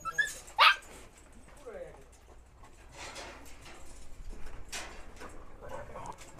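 Taihang dog puppies let out a few short yips and whimpers, with a sharp bark near the start, while people talk over them in a close indoor setting.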